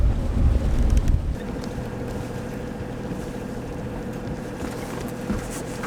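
Strong wind of around 50 knots buffeting a sailboat moored at sea, with a heavy gusty rush at the start easing into a steady roar and faint creaks and clanks of taut lines.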